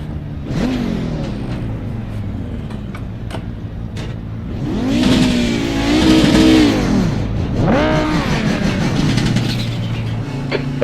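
Audi 90 GTO race car engine idling then revving hard twice, rising and falling in pitch, close and loud from inside the car.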